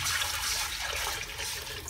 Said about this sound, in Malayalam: രണ്ട് പാത്രം വെള്ളം ഒഴിച്ചിട്ടുണ്ട്.